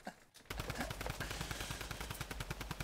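Drum gun firing in a video game: a fast, steady burst of rapid shots after a brief quiet start, loud and close, with no talking.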